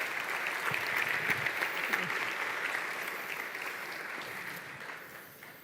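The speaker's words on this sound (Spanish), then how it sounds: "No sé si te han aplaudido más que a mí." An audience at a book presentation applauds steadily, dense clapping at moderate loudness that holds for several seconds and slowly fades near the end, with no talking over it.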